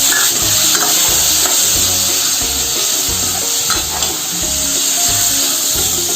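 Cumin seeds, coriander and tomato sizzle steadily in hot oil while a spoon stirs and scrapes the pan in a regular rhythm, the frying hiss loud and close throughout.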